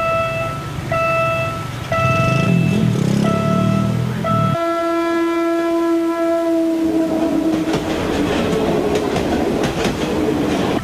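A railway crossing bell dings in a steady repeating rhythm, then a loud sustained train horn blares as the train rumbles past with clacking wheels.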